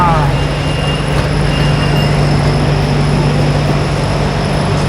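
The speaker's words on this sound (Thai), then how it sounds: "ฝังนี้ก็จะมีรถไฟฟ้าแล่นมา" A BTS Skytrain in Bangkok rumbles steadily nearby with a constant mechanical drone and faint squeals, an electric train arriving at Samrong station.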